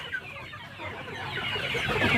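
Pradu Hang Dam chickens on a Thai farm, soft clucking and scratching at moderate distance, growing slightly louder, with no talking.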